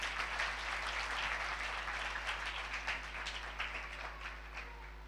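A church congregation at a live sermon claps together in a steady, moderately loud patter of many hands that slowly thins toward the end, with a low steady hum underneath and no voices.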